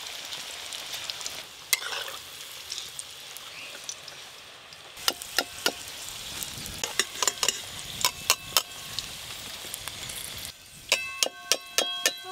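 Food fries in a pan for a spinach-and-egg dish with chicken pakoras, a continuous sizzle under repeated sharp metallic scrapes and clangs of a spatula stirring against the pan, clustered in quick bursts, no talking.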